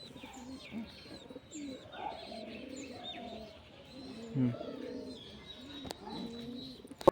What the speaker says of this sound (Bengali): দারুণ সুন্দর সুন্দর কবুতর